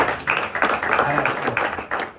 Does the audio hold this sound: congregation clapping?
yes